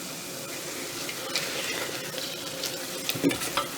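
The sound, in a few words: onions sauteing in butter with kosher salt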